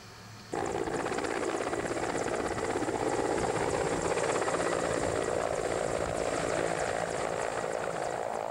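Helicopter arriving with mail and supplies at a remote Bering region outpost, its rotor roar cutting in abruptly and staying loud, close and steady throughout.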